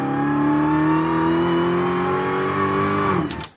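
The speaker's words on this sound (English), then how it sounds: "that is how you would mix the underhood and exhaust notes of a car" A Dodge Challenger Hellcat Super Stock with an 807 horsepower engine holding a loud, steady, mixed underhood and exhaust drone with a slight rising pitch, then cutting off abruptly at the end.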